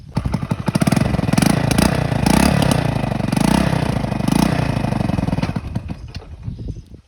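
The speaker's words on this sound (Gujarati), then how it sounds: "આ બાઇક આપણી જે બહુ જૂની છે, એને હું તમને અવાજ સંભળાવું." An old motorcycle engine running up close, a loud steady rough chugging with uneven revving that tapers off toward the end.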